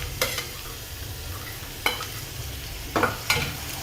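Chopped coriander and green chili-garlic paste hit hot oil in a kadhi tempering, giving a low steady sizzle broken by a few sharp scrapes and clinks of a stirring spoon, close and fairly quiet.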